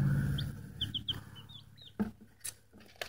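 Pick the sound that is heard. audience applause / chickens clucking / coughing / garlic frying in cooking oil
chickens clucking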